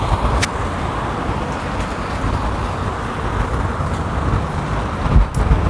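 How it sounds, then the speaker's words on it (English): Steady, dense traffic noise from a busy main street in Korea: a continuous roadway rumble of passing cars and buses, with a brief louder swell near the end and no talk. "As you can see, we are on like a main street right now, so it is gonna be a little bit more busy."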